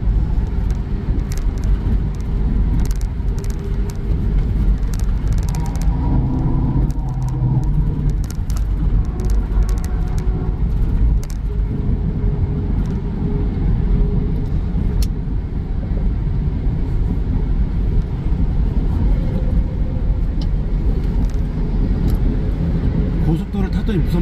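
A car cruising on a Korean highway, its steady road and engine roar continuous and loud throughout, with faint passing-traffic swells and no talk.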